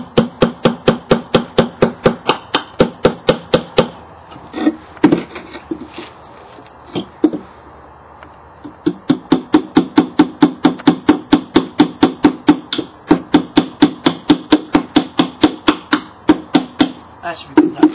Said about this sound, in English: So first we gotta hammer some nails into the side,